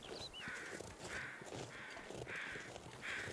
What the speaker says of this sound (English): That's just crows flying that way.